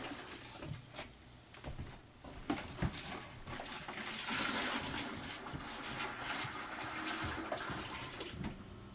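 Water pours steadily into a home-brewing pot to make strike water for an Oktoberfest beer, a continuous splashing rush close by with no talking.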